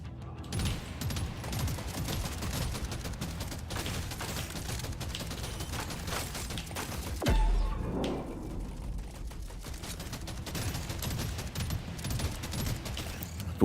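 Kinetic weapon fire in a video game crackles in a steady dense barrage of bullets, with a heavier blast partway through before the rapid shooting carries on.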